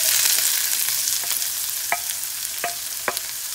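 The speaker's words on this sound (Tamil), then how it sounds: "வெங்காயத்தையும் நல்லா வதக்கிடுங்க. நல்லா சாஃப்டாக வர வரைக்கும் வதக்குங்க." Chopped onions sauté in hot oil in a pan while cooking methi (fenugreek) leaves, a steady broadband sizzle with a few sharp clicks of a spatula scraping the pan, close and fairly loud, no voices.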